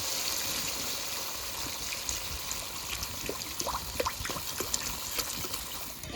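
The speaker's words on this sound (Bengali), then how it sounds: "এবার জল দিয়ে দেবো।" Water is poured into cooked masala for a Bengali katla fish tel jhal curry, making a soft, close, steady trickle and splash that runs for several seconds with small spattering bubbles.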